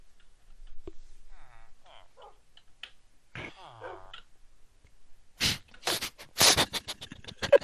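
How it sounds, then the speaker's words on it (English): Dogs bark in a video game, a run of sharp, loud yips and barks clustered near the end, after quieter stretches of gameplay noise and brief voice-like sounds. "The dogs are barking in protest at the signs."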